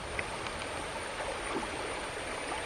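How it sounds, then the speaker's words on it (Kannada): A small stream in the Western Ghats foothills flows in light rain, giving a soft, continuous babbling wash that stays even and fairly quiet throughout. "ಸಣ್ಣ ಒಂದು ತೋಡು ತೊರೆಯ ಥರ ಹರಿತಾ ಇದೆ ನೋಡಿ"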